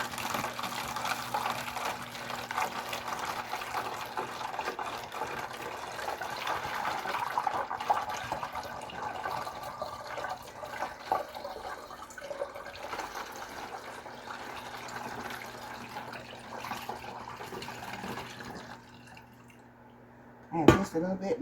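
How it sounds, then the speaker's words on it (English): Homemade turkey broth poured steadily into a jar in a kitchen, a continuous trickling liquid stream that fades near the end before a brief clink. "I'm pouring the broth into this jar."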